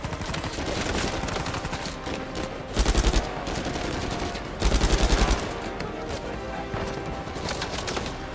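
MAC-10 submachine gun in Uncharted 4 firing two close, loud rapid bursts over a busy game backdrop of distant gunfire and ambient noise.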